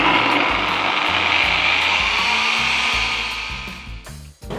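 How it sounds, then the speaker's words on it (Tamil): A kitchen mixer grinder whirs loudly and steadily, blending garlic, egg yolk, pepper and oil for homemade mayonnaise, then slows and cuts out near the end. "இதை நல்லா மிக்சியில் அரைச்சிக்கலாம்."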